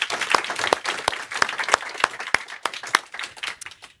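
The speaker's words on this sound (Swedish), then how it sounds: "Ja, så ska vi ge dem en varm applåd tycker jag." Sustained warm applause from a conference audience at a Swedish deeptech event, many hands clapping in a dense, steady patter with a few sharper individual claps standing out, tapering off toward the end.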